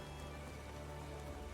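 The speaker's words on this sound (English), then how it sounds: "It's raining! Can you believe it?" Constant pattering rain falls in the Final Fantasy XIV game world, an even, unbroken wash of drops with a faint low hum underneath and no voices.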